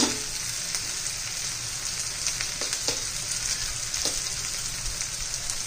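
Spices frying in hot oil for an egg masala, a dense, close crackling sizzle that stays steady throughout with a few sharper pops and light stirring taps.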